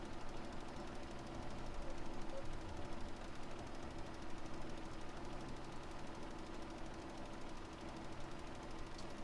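A tractor engine idles and chugs in the video game Farming Simulator 17, a steady, rough, rapid knocking rumble that stays even and fairly quiet throughout with no speech.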